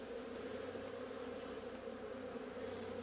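Honey bees buzz around an open hive during winter hive work on a farm, a continuous droning hum of many insects close by, steady and unbroken throughout.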